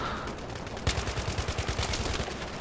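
Rapid automatic rifle fire from the shooter game Battlefield 3, a steady burst of evenly spaced shots starting abruptly and continuing over ambient game noise.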